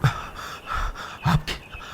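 Two men panting heavily in an audio drama, a string of close, ragged breaths and gasps in uneven rhythm with no talking.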